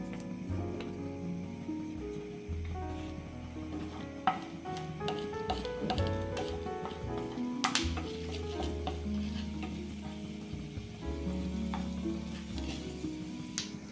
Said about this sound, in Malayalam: വെളിച്ചെണ്ണ ചൂടായി കഴിഞ്ഞിട്ട് അതിലേക്ക് ഒരു 1/2 ടീസ്പൂൺ കടുക്, ഒരു ടേബിൾ സ്പൂൺ ഉഴുന്ന് ചേർത്ത് കൊടുക്കാം